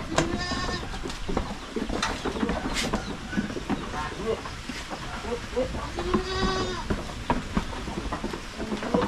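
Goats bleating repeatedly on a Philippine farm, several wavering calls near and farther off, with people chatting and outdoor noise throughout.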